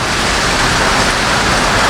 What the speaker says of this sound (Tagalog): pinapanood ang bawat patak ng ulan